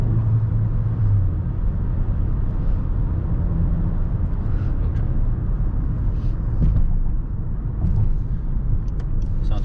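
A 2021 Acura CDX A-Spec with a 1.5T engine and 8-speed dual-clutch gearbox, heard from the cabin on the move as a steady low rumble of engine and road noise with faint ticks over it, no talking.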